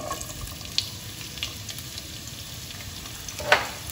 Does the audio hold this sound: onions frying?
yes